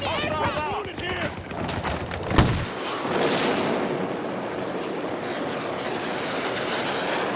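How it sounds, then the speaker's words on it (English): Enemy aircraft roaring overhead in the shooter game Battlefield, a loud sweeping jet rush after a sharp blast, with a steady engine and wind roar continuing, and soldiers shouting over it early on. "Heads up, aircraft! Enemy aircraft."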